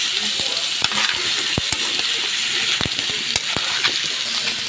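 Carrots and potatoes sizzle in butter in a pan for pork afritada, a steady close hiss broken by sharp scraping and stirring ticks at irregular intervals.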